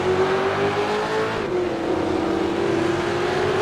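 V8 race cars on a circuit heading into turn one, a loud continuous engine drone with a steady pitch that dips briefly as the cars close in, no voices over it.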